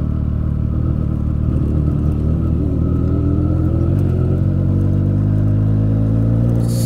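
A motorbike rides along a muddy road, its engine a steady close rumble with a rising, revving note partway through and no talk over it.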